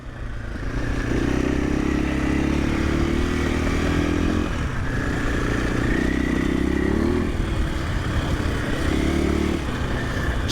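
A 2024 KTM 500 EXC-F dirt bike engine runs steadily while riding in third gear, a loud continuous thrum with throttle blips and slight dips in pitch, close and with no talking.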